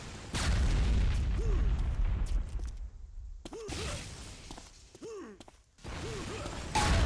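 Shock combo detonations in Unreal Tournament 2004 duel, several sharp whooshing electric booms with sweeping tones, loud and close amid game sound effects.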